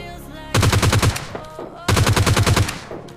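Automatic weapon fire in the mobile battle-royale game PUBG Lite comes in two loud, close, rapid bursts of shots, each about a second long, separated by a short pause.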